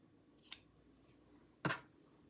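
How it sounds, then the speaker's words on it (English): Scissors clip excess threads from the edges of sewn fabric, two crisp snips about a second apart, close and quiet in a hushed room. "You can clip your excess threads."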